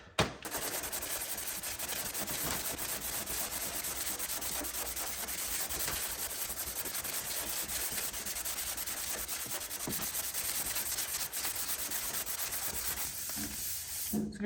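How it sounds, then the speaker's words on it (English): Body filler is hand-sanded on the fender of a 1979 Camaro Z28, giving a continuous, close, gritty rasp of back-and-forth strokes. The sound holds steady for over fourteen seconds with no talking. "try sanding some filler"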